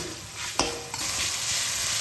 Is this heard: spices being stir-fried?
yes